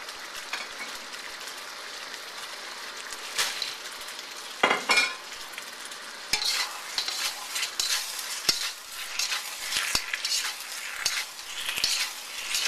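Pork being stirred and coated in sweet and sour sauce in a pan, with steady sizzling under repeated scraping and clinking of a utensil against the pan, loud and close, no talking.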